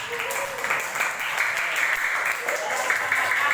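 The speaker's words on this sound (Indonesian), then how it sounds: "Tepuk tangan untuk semuanya" Primary-school pupils in a fifth-grade Islamic studies class clap together for everyone, a continuous, bright patter of many small hands heard close and evenly sustained.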